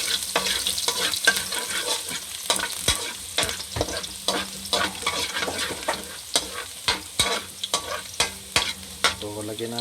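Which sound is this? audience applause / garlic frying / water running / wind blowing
garlic frying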